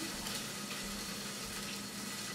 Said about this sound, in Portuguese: Bom, já terminei de selar a carne com o fogo ainda ligado.